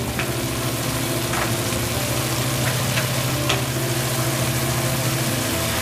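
Squid sizzles and fries steadily in a hot pan for adobong pusit, a dense, loud crackle running throughout with a few sharper spits and stirring scrapes.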